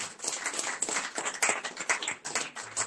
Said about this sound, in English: Please let's clap for us